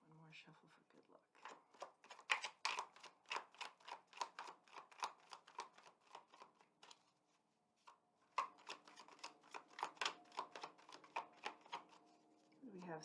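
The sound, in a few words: shuffling tarot cards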